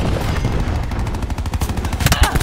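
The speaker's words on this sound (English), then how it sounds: "Cluster grenade going out" Cluster grenades in Call of Duty: Black Ops 4 go off in a rapid string of loud, close explosive pops and booms, dense and rumbling throughout.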